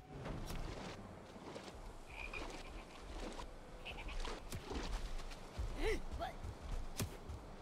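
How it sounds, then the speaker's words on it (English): Quiet frog croaks come from the video game Valheim, sounding as faint repeated calls over a low, busy background of game ambience. "The little frog right here."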